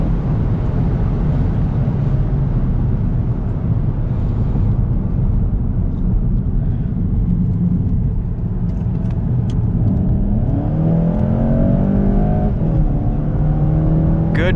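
A 2019 Volkswagen GTI with the 2.0T engine and DSG gearbox in sport mode lapping a track, its engine droning loudly inside the cabin, then rising in pitch as it accelerates toward the end.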